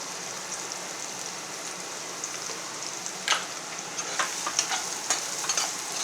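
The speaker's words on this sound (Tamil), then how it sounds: "நல்லா கொஞ்சம் நேரம் வதங்க." Chopped onions and egg sautéing in a pan for Tamil egg finger fry, a steady close sizzle with scattered stirring scrapes and pops growing busier toward the end.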